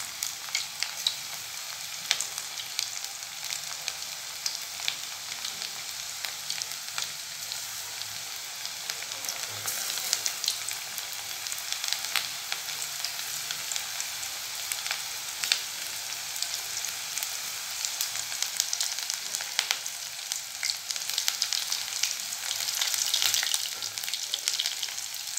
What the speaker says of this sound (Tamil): இது ஒரு 5 நிமிஷம் கழிச்சு நம்ம சுடலாங்க எண்ணெய் காஞ்சிருச்சுங்க